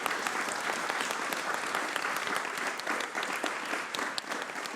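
An audience at a graphic design talk applauds its moderators and speakers, a dense, even patter of many hands clapping at a fairly low, distant level, sustained throughout with no voices over it.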